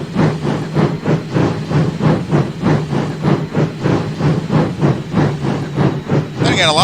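A train rolls slowly through a rail yard in a train simulation game, its wheels clacking over rail joints in a steady, evenly spaced rhythm under a low engine hum, loud and close throughout.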